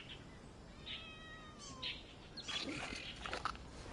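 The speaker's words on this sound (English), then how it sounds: "I heard one of the cats in the game" A cat meowing in the video game Genshin Impact, a few short meows heard up close at moderate volume over a soft background hum.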